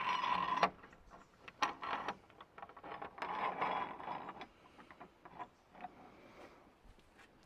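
A bolt is fitted and tightened on a garden structure, making quiet close mechanical clicks and ratcheting scrapes in short irregular bursts with pauses between them.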